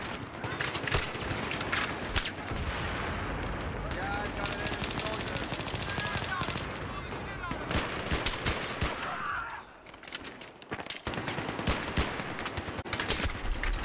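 Gunfire in the Battlefield 3 video game, with dense, sustained automatic bursts rattling almost nonstop, a brief lull near the end, then more shots, while a voice talks over the action.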